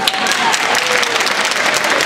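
Audience clapping for award-winning young writers, ages 8 to 18, at a short-story prize ceremony; steady, dense applause fills the room without letting up.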